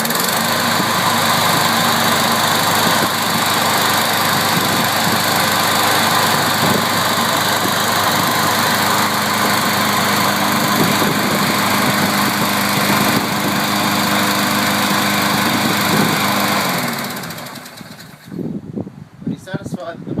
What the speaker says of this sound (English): Check the engine for any problems by running the mower.